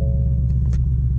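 A Ford Mustang GT engine running close by with a steady, deep low rumble that holds evenly through a short moment, with no other sounds.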